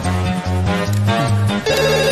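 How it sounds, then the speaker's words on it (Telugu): A telephone ringing in a Telugu movie scene: a loud, steady melodic ringtone pattern repeating without pause over about two seconds, with no voices. "రేయ్, చిట్టిగాని మిస్డ్ కాల్. ఈ ఫోన్ కాడే చేస్తున్నట్టున్నాడు. లిఫ్ట్ చేయి."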